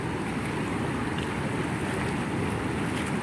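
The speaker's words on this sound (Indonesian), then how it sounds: "terus digempur dengan kekuatan yang penuh ini dari banjir Sungai Progo ini" Progo River floodwater surges past a line of concrete tetrapods in a steady, loud, broadband roar that never lets up, with wind buffeting the microphone.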